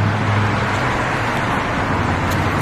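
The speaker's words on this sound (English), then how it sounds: "I can hear the cars." Cars pass along a nearby street, giving a loud, steady broadband road rumble with no clear gaps between vehicles.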